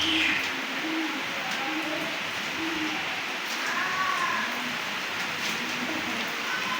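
Soft, low coos from a flock of pigeons repeat at intervals over a steady wash of background hiss, fairly close and unhurried.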